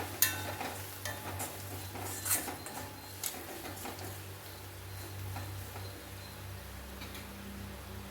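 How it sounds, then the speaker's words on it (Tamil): Chili powder and coriander powder are stirred and fried in oil in a pan, giving a quiet sizzle with scraping stir sounds and scattered ticks and clinks, with no voices. "இது நல்லா எண்ணெயிலேயே பரட்டி விட்டுடலாம்"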